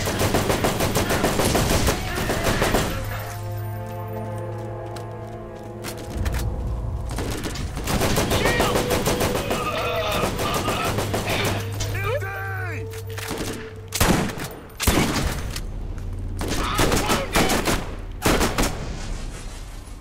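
Rapid bursts of automatic gunfire from the video game Borderlands, loud and sustained with repeated volleys and brief pauses, layered over game music and effects, with a voice talking at times.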